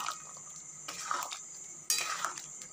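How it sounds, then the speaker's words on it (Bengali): A spoon scrapes and clinks against a pan as spices and water are stirred into Bengali aloo dum, a potato curry, with wet scraping strokes and small metallic knocks close up. "মশলাটাকে ভালো করে নেড়ে ছেড়ে নিচ্ছি"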